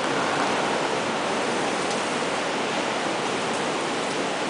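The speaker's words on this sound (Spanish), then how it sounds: "Y lo que se escucha es el mar, cómo rompe las olas." Sea waves break continuously on the Mexican coast, a broad unbroken roar of surf heard from a small balcony, with no voices.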